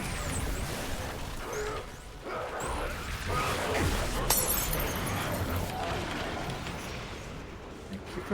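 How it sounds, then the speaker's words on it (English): Glass shattering indoors in a house at Christmastime, with dense crunching and clinking of broken pieces running through most of the stretch and a sharper crash partway through. "For the broken glass."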